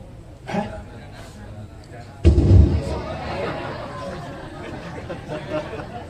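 A voice imitates a bomb explosion with a sudden loud booming burst after a brief murmur, trailing into rumbling noise and crowd chatter.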